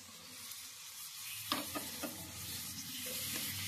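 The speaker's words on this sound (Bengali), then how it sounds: "এরপরে এই লেবুর খোসাগুলো যেগুলো আমি সিদ্ধ করেছি এর মধ্যে মিশিয়ে নিচ্ছি" Boiled orange peels being stirred into a candy mixture in a pan, with faint sizzling and a few soft spoon scrapes and knocks against the pot, fairly quiet.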